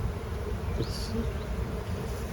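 Honeybees at an open hive, with a steady, quiet insect buzz holding through the whole moment and one brief higher whine rising near the middle.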